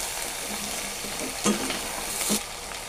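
Pinakbet vegetables, including eggplant, beans and okra, fry in a pan while a spoon stirs through them, giving a steady close sizzle broken by a few scraping strokes, with no talking.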